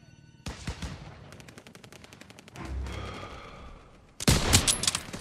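Loud gunfire from the World War II shooter game Call of Duty: WWII, with bursts of rapid machine-gun shots and single cracks, then a heavy close blast near the end; no talking.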